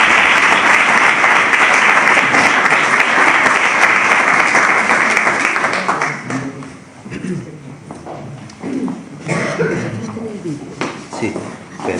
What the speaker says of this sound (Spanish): Así que vamos a darles un aplauso a los dos